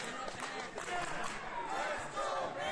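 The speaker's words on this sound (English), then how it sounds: "Listen to the crowd." A wrestling crowd at an FSW event roars and cheers loudly and continuously, with shouts rising and falling throughout.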